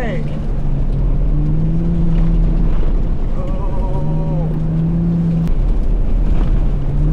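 A Ford F-150 Raptor driving on loose sand, its engine revving up and down through the gears with rising and falling tones, loud and close over wind noise.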